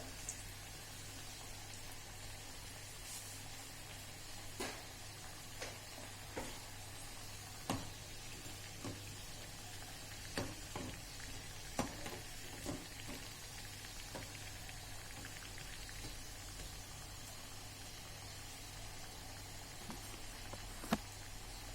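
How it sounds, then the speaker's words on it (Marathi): Idli pieces frying until crispy in hot oil make a soft, continuous crackle with scattered small pops, fairly faint and steady with no voices. "छान क्रिप्सी होईपर्यंत फ्राय करूया आपण"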